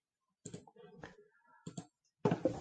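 A few sharp mouse clicks in quiet, spaced over a couple of seconds, with a denser burst of clicking at the end, made while publishing a page in WordPress with the Divi theme.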